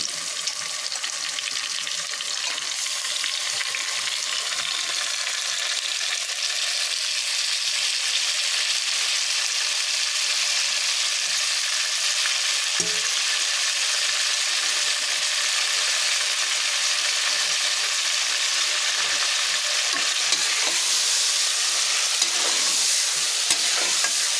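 Mutton sizzles and fries steadily in a hot pan for biryani, a loud, continuous close-up crackle and hiss with occasional stirring scrapes, no voices.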